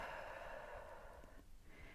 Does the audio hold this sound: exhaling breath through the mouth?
yes